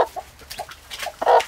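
Silkie chickens cluck softly in short, separated calls, a few brief clucks ending in a louder, longer one close by, with no talking.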